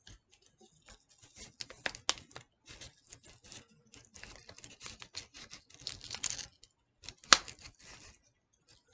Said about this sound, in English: just push it through the top garlic, let it go through the paper